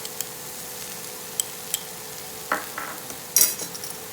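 A pan of vegetable quesadilla filling with cumin and pepper powder sizzles steadily on the stove, with a few faint scrapes and clinks of stirring near the end.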